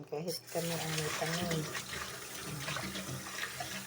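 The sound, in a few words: water running while rinsing alokbati leaves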